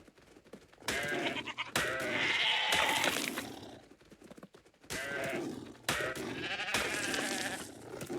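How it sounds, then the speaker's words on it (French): Small goats bleat in the video game ARK. Several loud, close bleats come in separate bursts with short quiet gaps between them. "C'est quoi ça? Oui, c'est bien les petites chèvres."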